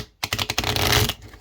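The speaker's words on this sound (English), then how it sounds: "And that's a ripple shuffle." Playing cards being ripple shuffled for bridge make a fast, close flurry of crisp riffling clicks that quickly blends into a dense purr before stopping.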